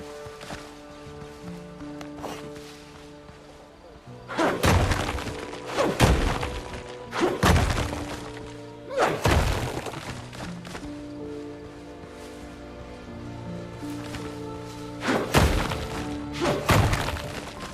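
Stone and rock being mined in the survival game Windrose: a series of heavy, crunching thuds and cracking impacts, grouped in irregular clusters, over a steady game background soundtrack.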